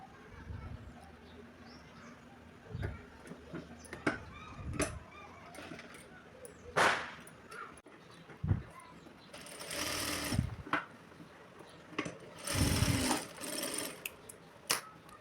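A sewing machine stitches cloth in short, intermittent bursts, quiet and close, with pauses between runs and light handling sounds around them.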